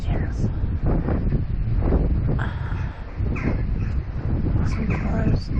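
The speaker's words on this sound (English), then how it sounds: "Some crows. No, I think they're rooks or something." Rooks call with repeated harsh caws near their nests in wild Scotland, while gusty wind buffets the microphone throughout.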